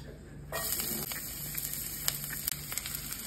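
Onions hit a hot frying pan and start sizzling, a sudden bright hiss that swells after a quiet start and continues with crackling pops, close and moderately loud.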